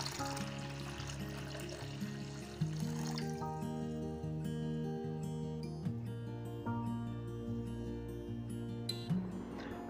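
Boiled water, 500 ml, is poured into dissolved sugar syrup while making air batu campur, a soft continuous trickle sitting beneath louder background music.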